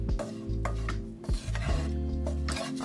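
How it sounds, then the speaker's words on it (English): Seasoning being stirred into cauliflower rice for a keto taco casserole, a close, continuous scraping and rubbing of a utensil against the pan with a few sharper knocks. "I'm just going to stir that around until it sticks to our cauliflower rice"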